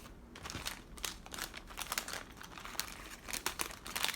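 Small paper envelope crinkling as it is packed with dried organic barley, a run of close, busy rustles and crackles with no talk.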